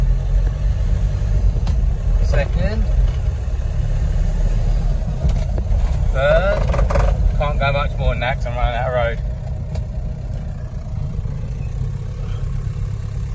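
A Talbot camper with a swapped-in PD130 engine drones steadily at low pitch while driving slowly near a lake, the rumble constant throughout with light rattles, and brief voices rising above it partway through.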